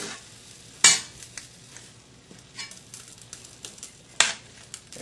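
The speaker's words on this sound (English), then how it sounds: "So these onions have been cooking for about 10 minutes now." Red onions cooked with sugar for marmalade are stirred in a pan, giving a soft sizzle under intermittent scraping and clinking. Two louder utensil knocks come at the start and near the end.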